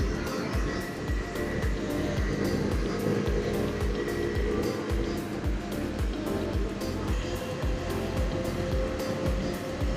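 A motorcycle engine and exhaust drone loudly and continuously while riding on a highway journey, with wind rush and rapid pulsing throughout and no clear talk.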